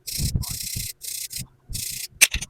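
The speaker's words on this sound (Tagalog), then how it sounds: "gagamitan natin ng steel brush. Ayan. Para maano yung mga kalawang matanggal at luminis talaga siya" Steel brush scrubbing rust off a wheel hub during bearing repacking, heard as bursts of harsh, bright scraping strokes with short pauses between them, close and fairly loud, with a few knocks at the end.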